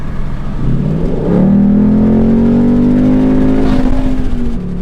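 A Ford Mustang GT V8 engine with stock exhaust and 10-speed transmission revs up from idle into a smooth, rising drone, held steady and loud before easing slightly.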